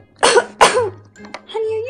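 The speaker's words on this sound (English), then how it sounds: "Did she just cough?" A woman coughs a few short times in a Halloween trick-or-treat skit, with two bursts up close followed by quieter vocal sounds.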